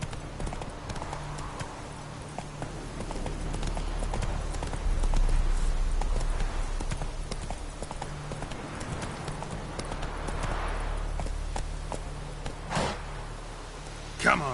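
Roach, a horse in a PlayStation 4 video game, gallops with steady clip-clop hoofbeats throughout, mixed with game sounds and a low steady hum.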